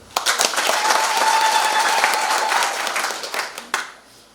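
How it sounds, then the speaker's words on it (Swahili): Applause from a church congregation during a Mass celebrating a new church, a sustained crowd clapping that swells quickly, holds steady, then tapers off toward the end with a few scattered claps. "Makofi kweli."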